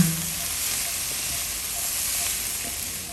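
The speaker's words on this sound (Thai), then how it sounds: "แล้วก็ใส่เห็ดลงไป ผัดคลุกเคล้าให้เข้ากันนะคะ" Mushrooms stir-frying in a pan with only a little oil, giving a soft, even hiss and sizzle close by, with faint scraping now and then and no talk.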